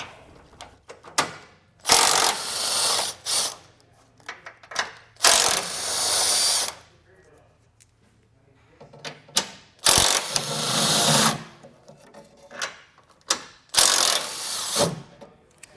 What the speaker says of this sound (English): We'll be using an 18mm socket.